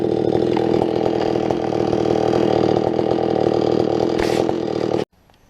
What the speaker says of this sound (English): Put your handbrake on if you're starting your power saws like this.